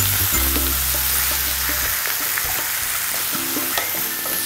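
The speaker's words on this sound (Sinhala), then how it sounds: "මේ විදිහට ෆ්‍රයි කරගන්න ඕනේ" Garlic and tomato sauce fry in a pan with a steady, loud sizzle, broken at the start and near the end by the scrape of stirring.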